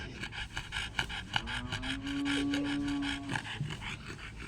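A dog pants in quick, steady breaths close by, with a brief whine or squeal in the middle of the run and no talking over it.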